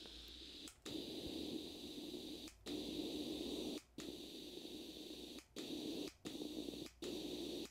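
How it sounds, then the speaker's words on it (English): Steady radio white-noise hiss from a GameBoy-style iPod radio scanning stations, cut by several abrupt brief dropouts to near silence as the tuner steps, with no voices. "So I hear a lot of white noise right now."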